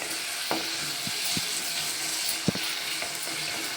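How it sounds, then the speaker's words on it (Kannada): Onion and tomato frying in oil give a steady close sizzle, with a few sharp knocks and scrapes of a spoon stirring the pan at irregular moments. "ಇದು ಈರುಳ್ಳಿ ಟೊಮೆಟೊ ಚೆನ್ನಾಗಿ ಎಣ್ಣೆಯಲ್ಲೇ ಬೇಯಲಿ"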